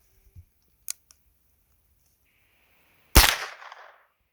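A single loud Winchester 9422 Trapper lever-action rifle shot fired outdoors through trees, a sharp crack with a short decaying tail, preceded by a few faint clicks and near silence.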